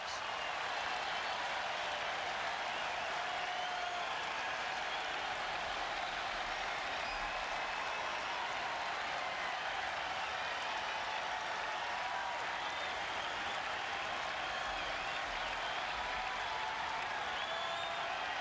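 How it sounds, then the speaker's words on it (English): Sellout baseball crowd at Camden Yards, many of them Red Sox fans, roaring steadily after a Brian Daubach home run; a dense, sustained wash of cheering and applause throughout with no lull. "A lot of Red Sox fans in the sellout crowd here at Camden Yards tonight, cheering the 7th home run this year by Brian Daubach"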